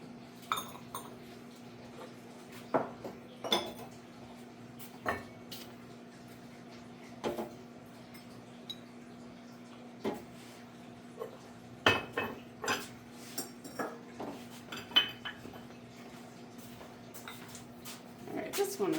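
Small student-made ceramic pots clink and knock as a kiln is unloaded, scattered sharp ceramic taps and clatters at close range, under a steady low hum.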